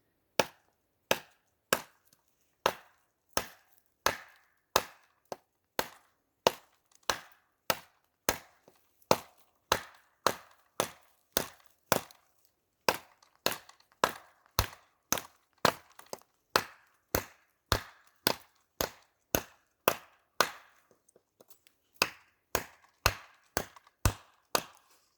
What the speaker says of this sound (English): doing that chopping action from side to side